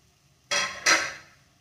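Two close, sharp sizzling bursts come one after the other as sliced banana pieces hit hot ghee, each hiss flaring loudly and then fading over a quiet kitchen.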